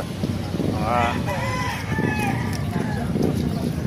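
Kanawayan gamefowl roosters crow close by at a busy market, one strained call rising over a constant crowd murmur and background chatter.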